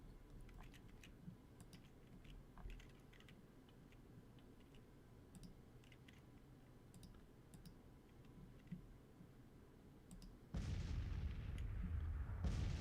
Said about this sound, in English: Donovan is firing some counter battery fire against this first battery